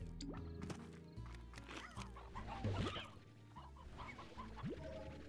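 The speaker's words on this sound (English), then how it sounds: "I can hear more chickens around." Chickens in the video game Slime Rancher cluck in short, scattered bursts over a busy layer of game music and effects, fairly close and moderately loud.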